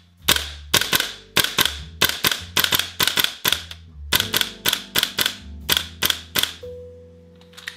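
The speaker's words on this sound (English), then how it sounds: "The rifle firing is very metallic and loud." VFC HK416A5 gas blowback airsoft rifle fires in rapid metallic bursts, sharp loud cracks in quick rhythmic strings with a short pause between groups, close and dominant.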